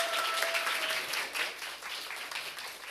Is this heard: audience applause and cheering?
yes